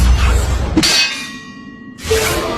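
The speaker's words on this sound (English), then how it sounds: "They struck him with swords." Swords strike metal in two loud, sharp clangs about a second apart, each ringing out with a bright metallic tone that slowly fades, with no voices.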